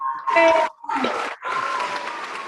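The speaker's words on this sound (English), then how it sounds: "give her a very warm welcome and a round of applause" Attendees of an online Toastmasters meeting unmute to welcome a speaker, with short bursts of cheering and whooping voices and scattered clapping through compressed call audio, separated by brief gaps.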